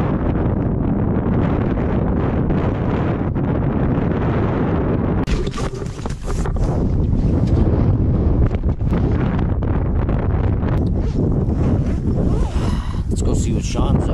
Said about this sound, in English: it's been cold, windy